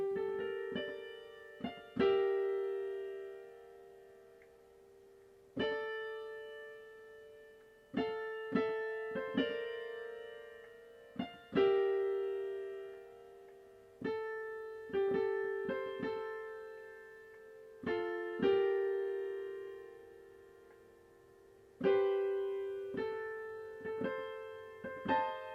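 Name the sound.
right-hand piano melody of a song from La La Land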